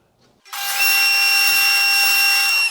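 A power drill boring a hole in a 66 mm wooden block meant as an end cap, a close, steady high-pitched whine that starts abruptly and holds for about two seconds.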